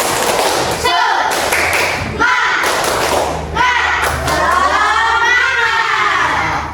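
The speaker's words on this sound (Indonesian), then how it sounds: "Sebelum berdiskusi, kita tepuk semangat dulu. Tepuk semangat." Schoolchildren in an Islamic religious education class do a rhythmic group "tepuk semangat" spirit clap. Loud patterned claps and thumps come in bursts, with children's voices chanting along throughout.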